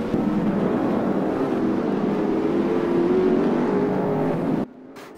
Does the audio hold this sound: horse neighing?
no